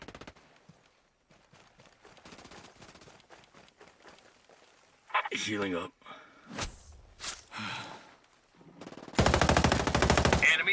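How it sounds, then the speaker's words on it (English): Bursts of automatic gunfire in the tactical shooter Ghost Recon Breakpoint, short rapid volleys interspersed with quieter stretches and footsteps, with players' voices talking in between. "I hear gunfire."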